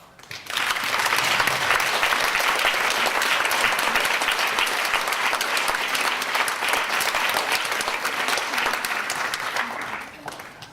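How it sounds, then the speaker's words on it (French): An audience at a writing-prize ceremony applauds the readers and light painters as they come forward, a sustained, dense round of clapping that swells quickly and holds strong for about ten seconds before easing off. "merci d'applaudir les personnes qui vont nous rejoindre, tous les lecteurs et les light painters."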